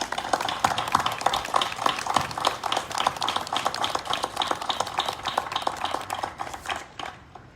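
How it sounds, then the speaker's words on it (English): Audience applause for police investigators stepping forward at a Tallahassee Police Department press announcement, a dense, steady burst of many hands clapping for several seconds before tapering off at the end. "If you would, join me in giving them a round of applause."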